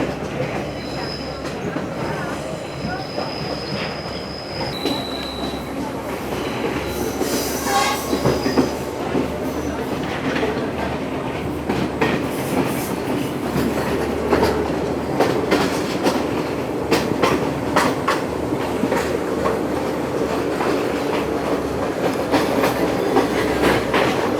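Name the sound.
train running on rails, Ella Odyssey train in Sri Lanka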